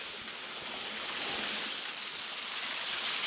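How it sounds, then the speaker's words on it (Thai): Steady, dense rush of falling water from a waterfall in a rural Thai forest setting, a constant broadband roar heard alone without voices, even in loudness throughout. "น้ำตก"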